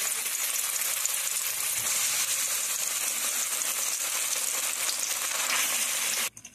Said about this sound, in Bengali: তেল গরম হয়ে গেছে। এখন আমি জলপাইগুলো দিয়ে দিচ্ছি।